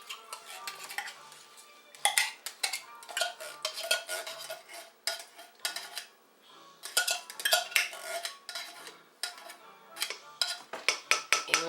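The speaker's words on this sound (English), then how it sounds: "now I've got just a can of tomato soup that I'm going to put in here." Canned tomato soup clanks and scrapes from a can into a metal pot during home cooking of vegetable beef soup, with repeated clinks of utensil against metal, stirring scrapes and bursts of clatter, close and fairly loud, with no talking.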